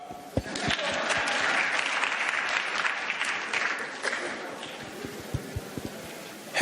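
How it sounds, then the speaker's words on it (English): Applause from an audience at an evening new venture competition, a dense, steady wash of many hands clapping close by that thins toward the end into a few scattered claps. "I think I deserve some clap."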